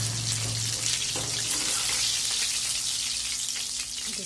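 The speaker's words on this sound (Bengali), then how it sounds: "এগুলোকে লাল লাল করে ভাজা হয়ে গেলে আমি এগুলোকে তুলে নেব।" Chicken pieces frying in hot oil for chili chicken, a steady close sizzle and crackle running without a break under a low background hum.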